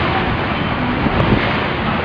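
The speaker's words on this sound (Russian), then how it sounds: "Мы решили прокатиться на скоростной лодке по Средиземному морю вдоль берега Барселоны." A speedboat heading out of Barcelona port onto the Mediterranean Sea, a steady broadband rush of wind, water and motor held at a fairly loud, even level with no talk.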